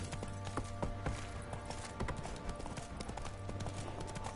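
Horse hooves trot in a steady clip-clop rhythm through The Witcher 3 video game, loud and close over a continuous low ambient drone, with no talking.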